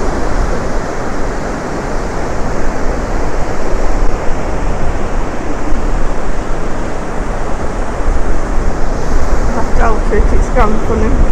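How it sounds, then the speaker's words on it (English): Strong wind roars and buffets continuously over crashing surf on a beach on the Eyre Peninsula, loud and close, with a faint voice briefly under the noise near the end. "There you go, that's how windy it is."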